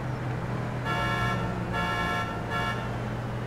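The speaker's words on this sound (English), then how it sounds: "Alright, honk it up." Car horn honks in three bursts, each roughly half a second to a second long, from a racing video game, sounding over a steady engine drone.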